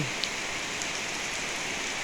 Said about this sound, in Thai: ทำกลางสายฝน